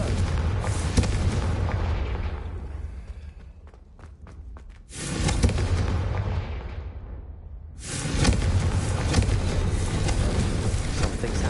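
Confringo fire spell going off in the Hogwarts Legacy video game, with booming blasts that swell, fade into a quieter gap with a few sharp cracks, then roar back loud and sustained.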